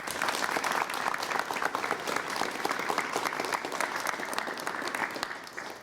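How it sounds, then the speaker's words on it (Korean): A studio audience on a 1987 KBS Korean television talk show applauds to welcome a guest. The clapping is sustained, dense and even, with no speech over it. "여러분 해강 선생님을 박수로 맞이해 주시면 대단히 고맙겠습니다."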